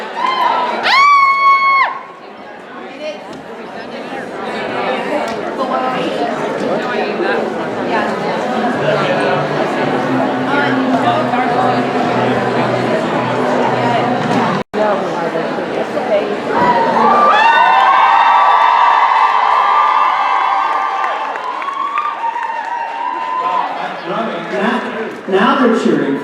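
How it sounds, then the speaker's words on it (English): A fan convention crowd in Montreal cheers and whoops loudly for a long stretch, the noise dense and continuous, with a brief lull and a few voices speaking close by. "Now they're cheering for me"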